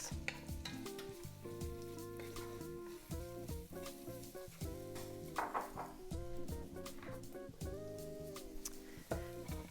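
Onions sautéing in oil in a pan give a soft, steady sizzle with occasional stirring clinks, sitting beneath louder background music.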